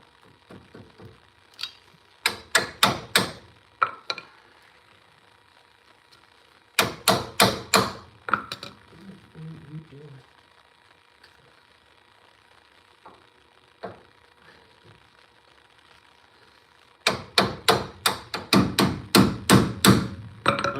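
A hammer strikes repeatedly in a workshop, left-handed swings landing in quick bursts of sharp, close blows separated by quiet stretches, with a faint light tapping between.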